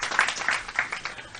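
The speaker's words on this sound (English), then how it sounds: "Bernard Mona, please a round of applause for him as well." A short burst of audience applause at a Save Ghana Now press conference in Ghana, a few quick, soft claps blending together for just over a second, without speech.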